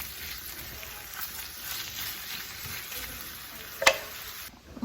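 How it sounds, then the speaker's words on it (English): Garlic and bitter melon sautéing in a pan, a steady close sizzle with faint stirring and one short sharp clink near the end. "So garlic and then the bitter melon. Saute them first"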